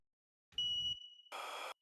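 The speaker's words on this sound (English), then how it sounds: "Beep." A single synthetic beep used as a dubstep transition effect, a steady high electronic tone lasting under half a second, followed by a short burst of noise.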